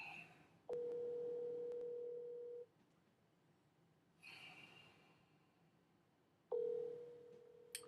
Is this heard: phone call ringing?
yes